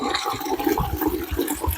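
Water runs steadily where it collects in a forest near a hermit's hut, a dense rushing flow that stays constant, close and loud, with no voices.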